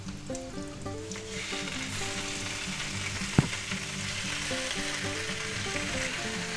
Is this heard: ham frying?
yes